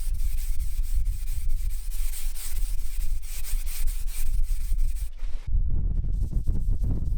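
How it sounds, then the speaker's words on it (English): Wet sanding of a varnished wood finish with 400-grit paper on a room divider, a continuous close, gritty back-and-forth rubbing that stops briefly and resumes in a quicker rhythm. "I sprayed on some water and wet sanded at 400 grit to denib the finish"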